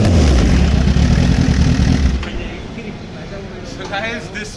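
A 2016 Kawasaki ZX-10R with a race-fit exhaust: a loud, near engine roar for about two seconds, dropping to a lower idle-like rumble with a brief rise near the end.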